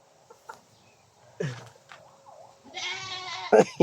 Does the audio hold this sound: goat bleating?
yes